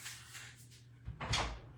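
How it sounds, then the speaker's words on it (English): An indoor door is opened: a quiet rustle and low hum, then a short, soft thud and scrape as it swings, fairly close, with no talking. "I'm opening my door."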